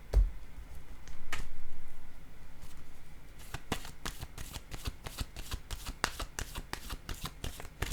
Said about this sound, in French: Est-ce que je devrais déposer une autre carte ici, Scorpion?